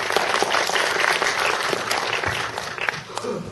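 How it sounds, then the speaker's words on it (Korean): Applause from a workshop audience welcoming a film director who lectures on a 35mm ARRI camera, steady dense clapping throughout with a slight dip near the end. "우리 김영철 감독님 위해서 뜨거운 박수 보내주시기 바랍니다."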